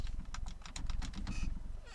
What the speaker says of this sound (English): So now we can install the keyboard.